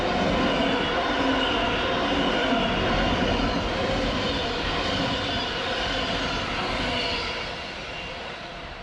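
V set trains V15 and V39, heading from Central to Lithgow in the Blue Mountains, pass as a continuous loud rumbling roar that holds steady and then begins to fade near the end.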